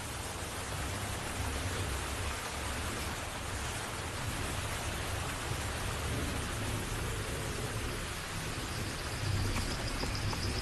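Steady rain pouring down in the wild where a pride of lions shelters, a soft continuous hiss of moderate loudness with no pauses and no voices.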